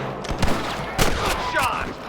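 Western revolver and rifle gunfire in Red Dead Redemption, several sharp shots spaced out over two seconds, close and loud, with a faint whoosh or ricochet trailing near the end.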